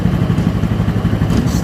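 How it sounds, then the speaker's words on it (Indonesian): The starter dynamo of a Honda Vario scooter with an electrical fault spins on its own, making a loud, close, rapid whirring clatter with a fast pulsing rhythm. "kok dia langsung bunyi dinamonya, belum di tombol starter ya"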